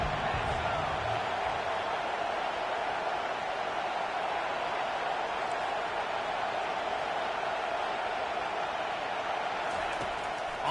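Steady roar of a football stadium crowd during UCF vs Texas A&M as the defense pins the offense deep in its own end, a dense continuous wash of voices that stays level throughout.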